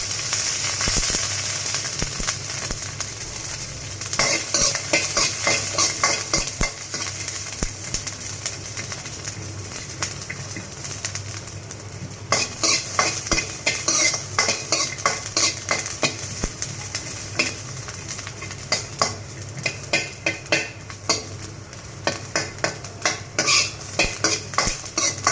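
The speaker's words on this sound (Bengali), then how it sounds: "হালকা তেল দিয়ে দিব রসুনের মধ্যে।" Garlic fries in a little oil while being stirred, giving a steady, loud sizzle with frequent scraping and clinks of a utensil against the pan throughout, no talking.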